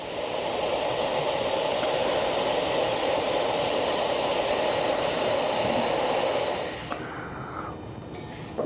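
Propane gas rushes out of an RV tank in a loud, steady hiss that lasts about seven seconds, then cuts off abruptly and leaves a faint residual sound.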